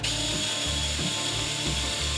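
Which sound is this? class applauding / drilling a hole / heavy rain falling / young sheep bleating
drilling a hole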